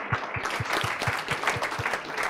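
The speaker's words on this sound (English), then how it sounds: "Let's give a round of applause" An audience at a Chopped-style cooking competition claps together after a dish is judged, a steady patter of hands with some quick rhythmic beats running through it, fairly close and with no voices over it.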